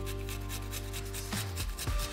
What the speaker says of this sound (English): I'll get my nice tiny grater here and I'm gonna grate it